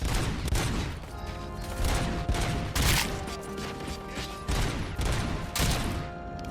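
Sustained gunfire in the RoboCop: Rogue City video game, dense bursts of rapid shots with booming impacts and mechanical clatter, loud and continuous throughout.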